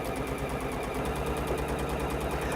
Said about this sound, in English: Let's just stitch that down and see where that takes us to.